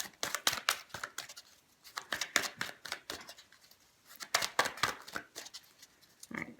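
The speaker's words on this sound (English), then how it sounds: "All right, one more shuffle." A deck of tarot cards being shuffled by hand, quick bursts of riffling slaps and flutters in two rapid rounds separated by a short pause, close and clear with no talking.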